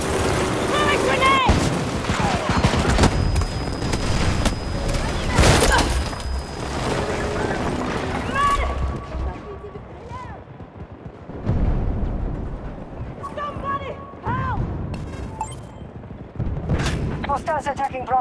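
A grenade explosion and heavy gunfire in the video game Battlefield 2042 Breakthrough mode, a loud dense battle of bursts and booms continuing throughout, with players talking over it.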